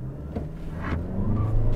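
A 2021 Toyota Venza all-wheel-drive hybrid SUV in eco mode pulls away hard from a brake-torque launch, a low steady engine drone that rises and swells slightly louder toward the end, heard from inside the cabin with no talk.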